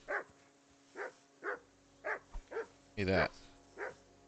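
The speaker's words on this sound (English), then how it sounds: "Call that dog to heel. That dog is annoying." A dog barking in the medieval game Kingdom Come Deliverance, sharp repeated barks at a steady rhythm of about one per half second, with a brief spoken voice in between.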